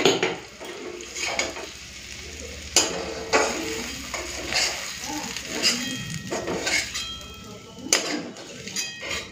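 Mourola fish frying in oil with onion and brinjal, a soft sizzle broken by repeated clinks and scrapes of a utensil against the pan, with a voice talking over it.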